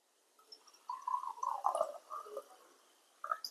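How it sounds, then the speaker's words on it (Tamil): Water trickles into a glass of Konige Fusion brandy in short, gurgling splashes that rise and fall for about two seconds, then return briefly near the end, close and fairly quiet. "நம்ம தண்ணி ஊத்திக்கலாம்."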